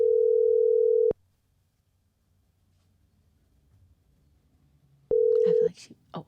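A telephone call rings out on the line with two long, steady ringing tones separated by a few seconds of quiet, and brief voices follow at the end.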